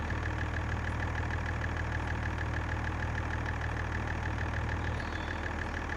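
In a farming video game, a tractor engine idles in a steady, even drone with a constant low hum and faint mechanical whine, uninterrupted and alone.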